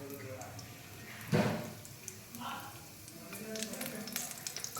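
Mustard seeds and cumin hit hot oil for a Telugu pepper rasam, giving a soft crackling sizzle with a sharp burst of spattering near the middle, while a voice talks quietly over it.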